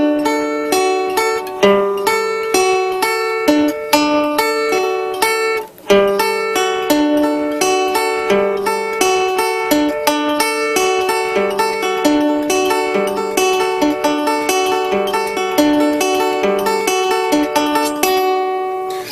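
A five-string banjo plays a jazz Latin groove, with bright plucked notes and chords in a steady syncopated pattern, loud and close throughout, with no talking.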